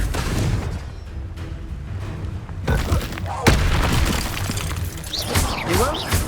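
Confringo fire spell bursting in Hogwarts Legacy, with loud booming blasts and crackling debris layered over dense battle noise, a sharp impact near the middle, and a voice speaking over the action.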